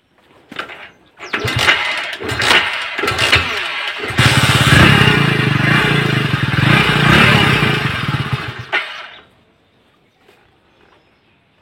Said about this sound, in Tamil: ஸோ ஓடுது, பைக் ஓடுது.